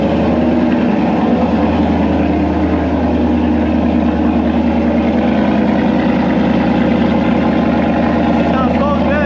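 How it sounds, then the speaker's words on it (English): A Ford Mustang engine idles right after a cold start, with a loud, steady, close low rumble and a rapid pulsing beat that holds throughout. Speech is tagged but no words are made out. "Did a cold start."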